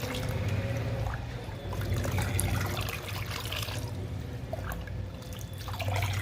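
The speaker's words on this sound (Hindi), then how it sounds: "तो हमने पानी में सीवीड मिला लिया है और इसको थोड़ा सा मिक्स कर लेंगे।" Seaweed fertilizer is stirred into water, giving a continuous soft sloshing and trickling with small splashes and drips throughout, close and moderately quiet.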